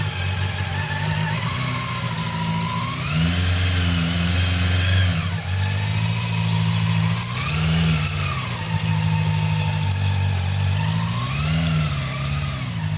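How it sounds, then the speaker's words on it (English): Motorcycle ridden at low speed during a riding test, its mid-pitched engine steady and close, rising and easing in gentle swells of throttle throughout with no talk. "I'd like you to do a low speed ride now for me here, Pádraig, if you can."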